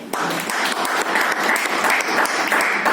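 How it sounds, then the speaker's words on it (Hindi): Steady applause from an audience at a talk, a dense patter of many hands clapping loudly and evenly for about three seconds with no voices over it. "इसके लिए ताली बजा सकते।"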